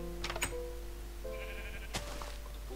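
Sheep in Minecraft bleating twice, short nasal calls, one near the start and one near the end, over a low steady background hum.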